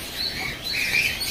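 A firetail finch in an aviary gives a few quick, high chirps, close and fairly clear over faint background noise, in a brief burst.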